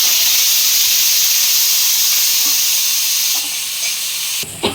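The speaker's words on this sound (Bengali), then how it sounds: "এই যে ফোড়নটা দেওয়ার পরে আমি আমটা ছেড়ে দিল" Boiled raw mango for a sweet chutney drops into hot tempering with kasuri methi, setting off a loud, close, continuous hissing sizzle that eases slightly before a sudden rattle right at the end.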